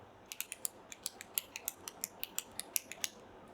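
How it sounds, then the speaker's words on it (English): A ball pen is clicked repeatedly in a quick, fairly even run of about twenty crisp, close clicks over quiet room tone. "clicking his pen. The ball pen that he has."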